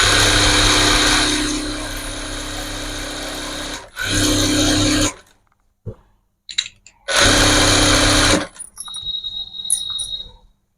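A power sewing machine in a tailoring workspace stitches in loud, steady whirring runs. The first long run lasts several seconds, followed by shorter bursts with brief gaps, some small clicks and a faint high tone near the end.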